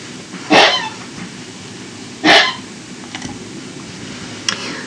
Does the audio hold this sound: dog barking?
yes